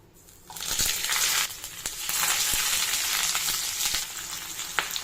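Hilsa fish paturi parcels going one by one into a wok of hot oil and frying, a loud, steady crackling sizzle with scattered sharper pops throughout.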